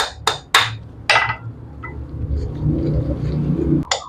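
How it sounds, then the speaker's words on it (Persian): A plastic mallet taps an armature into the gearbox of a mini angle grinder during home repair, giving four sharp knocks in the first second and a half, then a low rumble and one more tap near the end. "روی گیروبکس با چکش پلاستیکی ضربه میزنیم به این شکل تا آرمیچرمون وارد گیروبکس بشه"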